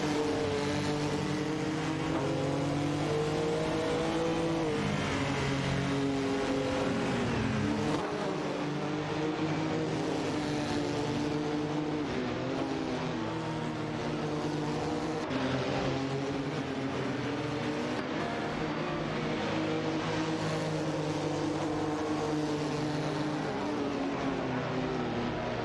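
Race car engines in an AI racing video game, including a McLaren F1 GT, drone and whine in a continuous layered roar that rises and falls, steady and fairly loud with no voices.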